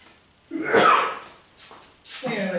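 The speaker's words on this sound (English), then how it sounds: "Excuse me, I gotta sneeze." A man painting a cedar cove landscape lets out a sharp, close sneeze, followed by two shorter snorting, throat-clearing bursts in an otherwise quiet room.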